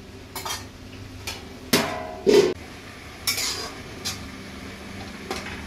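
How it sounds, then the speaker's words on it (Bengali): Metal utensil scraping and clanking against a pot of ridge gourd curry as it is stirred, then a lid set on top: a few sharp, moderately loud clinks and knocks spaced apart over a quiet kitchen background. "এবার নাড়িয়ে ঢাকা দিয়ে দেবো"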